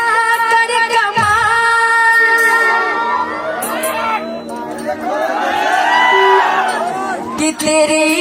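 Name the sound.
stage show audience shouting and cheering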